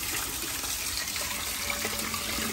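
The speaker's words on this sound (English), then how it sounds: "All right, let's fill these bottles up." Well water runs steadily from a tap into bottles being filled, a continuous close gushing and splashing with no talk.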